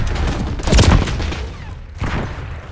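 Semtex grenade blast in Black Ops 6 multiplayer on Nuketown, a loud booming explosion near the start followed by a second burst of gunfire-like impact about a second later, over a steady game-ambience bed.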